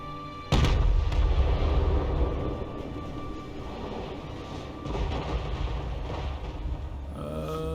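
Artillery fire from Grand Cathay rocket artillery in the strategy game Total War: a sharp heavy blast opens, followed by a sustained rumbling barrage of booms and crackles, loud and continuous with no voices.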